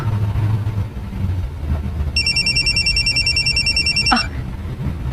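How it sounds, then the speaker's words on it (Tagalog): A telephone rings with an incoming call, a close electronic trill repeating for about two seconds before it stops abruptly, over a low rumbling background. "Timing. Nanawag si Romero"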